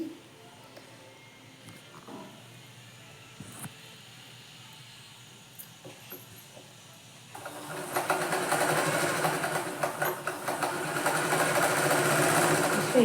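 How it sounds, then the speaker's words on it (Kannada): A sewing machine runs a zigzag stitch on a saree, starting with faint mechanical clicks and then speeding into a loud, steady whirring hum for the second half. "ಇವಾಗ ಇದನ್ನು ಸ್ಟಿಚಿಂಗ್ ಮಾಡ್ತೀನಿ."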